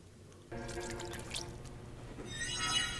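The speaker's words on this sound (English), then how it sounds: "It's a taxidermied puffer fish, and he's pouring water on it" Water poured over a taxidermied puffer fish, a steady close splashing trickle that starts abruptly and swells slightly toward the end, with no talking.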